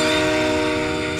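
A heavy train roars steadily in the video game Typing of the Dead on the Scream Train level, a loud continuous rumble with a sustained horn-like tone and no speech.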